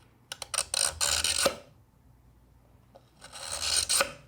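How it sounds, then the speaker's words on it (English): A carbide lathe tool scrapes a groove into a black guitar headstock under repair: two close bursts of rapid, raspy scraping strokes separated by a quiet pause. "Carbide lathe tool. This stuff will cut anything."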